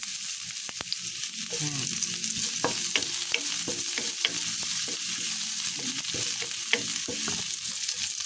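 Fresh ginger hits a pan of hot oil and is stirred, giving a constant sizzle with scraping and clinks of a utensil, while someone briefly speaks.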